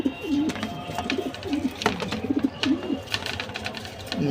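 A pigeon coos close by in a steady series of soft, rolling low calls, with faint clicks and rustles in the background.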